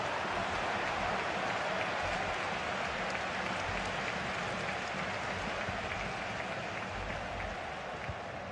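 Dense, steady stadium crowd roar at a cyber football match in a video game, a broad continuous wash of cheering that stays loud and even throughout with no clear voices standing out.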